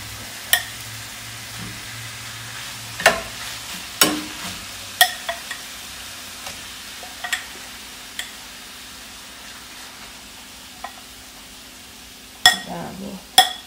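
Marinated meat with a little lemon frying in a pan, with a low steady sizzle and scattered sharp clanks and scrapes of stirring, quiet overall with no talk.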